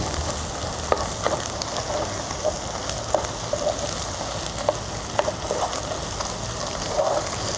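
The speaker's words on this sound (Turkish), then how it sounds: "İyice salçayı da bir kavuralım." Caramelized onions with tomato paste fry in a pan for fava bean stew, a steady close sizzle crackling throughout with faint, scattered stirring clicks.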